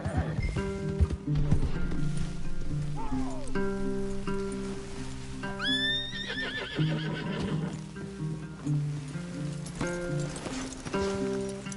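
Horses in Red Dead Redemption 2 whinny with rising, pitched calls over steady clip-clop hoofbeats, set against a layered game soundscape of music and ambience that runs throughout, fairly close and loud.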